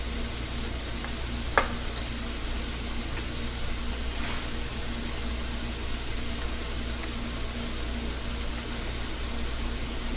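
Apple slices frying with sugar and cinnamon in a pan give a steady, dense sizzle throughout, with a couple of brief sharp clicks or pops near the start and no talking.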